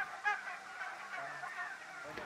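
Turkeys on a fattening farm holding about 27,000 birds gobble and honk in a loose chorus, several calls overlapping at a moderate distance over a quiet background.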